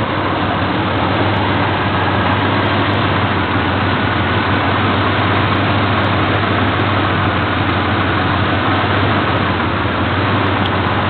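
A Chevrolet S10's engine runs continuously with a loud, dense drone and faint, slight surging in its steady idle, heard close with no voices.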